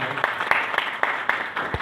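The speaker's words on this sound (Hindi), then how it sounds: "जोरदार ताली" Audience members at a business and entrepreneurship event in Udaipur clap in a fairly even rhythm, with sharp claps standing out about four times per second over a busier background of applause.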